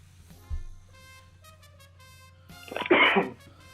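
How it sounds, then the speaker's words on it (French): A single harsh cough bursts out near the end, loud and close, after a quiet stretch with a faint thump and low background hum. "Je suis désolé si je tousse un petit peu de temps en temps"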